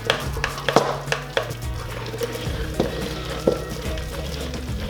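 Haroset mixture, an Egyptian-style blend of fruit put through a food mill, being stirred in a bowl, with a series of light clinks and scrapes of a utensil against the dish and a steady low hum behind.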